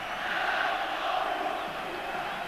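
Football crowd on the terraces at a Yugoslavia v England match, a dense, distant, continuous roar of many voices with no distinct individual shouts.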